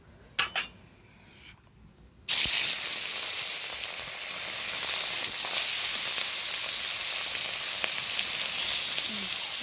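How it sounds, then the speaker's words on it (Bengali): Marinated fish pieces hit hot oil with a sudden loud, sustained hiss and crackle that follows a couple of brief clinks, the sizzle continuing steadily close by. "তেলটা গরম হয়ে গেছে, তাই এতে মেখে রাখা মাছটা দিয়ে দেবো"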